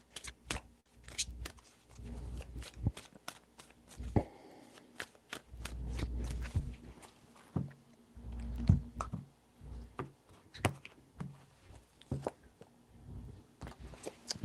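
A tarot deck is shuffled by hand, giving a run of crisp riffles, taps and soft slaps at close range, with brief pauses between bursts.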